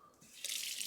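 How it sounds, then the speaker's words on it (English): A kitchen tap runs water over a spatula being rinsed of egg at a sink, a steady broadband hiss that swells louder about halfway through and stays close and continuous, with no talking. "I'm going to wash this spatula right now just because I don't want the eggs to dry to it."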